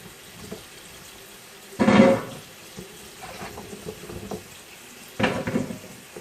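Water from a kitchen tap splashes into a pot in two short bursts, each lasting about half a second, with quiet clatter and low room noise in the gaps.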